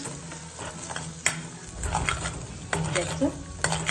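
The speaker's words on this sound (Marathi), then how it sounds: "सुके मसाले टाकून घ्यायचे आपल्याला आणि मिक्स करून घ्यायचे" Dry spices stirred in a pan for a homemade mutton curry, with repeated scraping strokes over a steady low sizzle and no talking.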